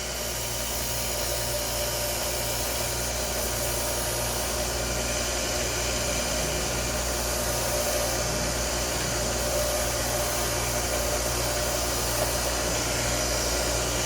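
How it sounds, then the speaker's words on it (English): A brass wire wheel brush spins steadily against Hoover vacuum brushes, giving a continuous, even whirring hiss with a low motor hum for the whole stretch, close by and without pauses or talk. "We're going to clean these off at the brass wheel brush."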